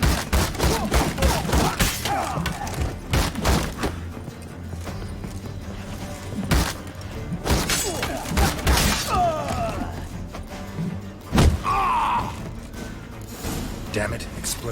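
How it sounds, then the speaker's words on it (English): Explosion and combat from The Witcher 3: Wild Hunt: a dense run of loud percussive blasts, thuds and clattering impacts, with game voices heard in the mix. "Damn it, explosion triggered that fight."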